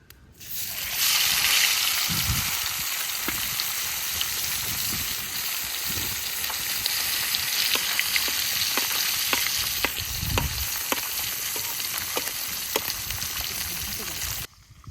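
Fish sizzles and crackles steadily in hot spiced oil in a Bangladeshi home kitchen, a loud continuous frying hiss with scattered pops and occasional low stirring knocks, running without speech for most of the stretch.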